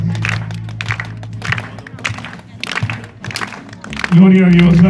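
A church congregation claps louder in a regular rhythmic beat beneath a person speaking, then a sustained sung or musical tone swells in at the end.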